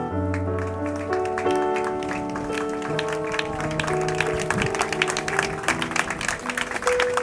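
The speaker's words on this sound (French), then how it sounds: "nous nous invitons à lui offrir un standing ovation" A crowd rises for a standing ovation at a funeral ceremony. Steady clapping runs under prominent music throughout.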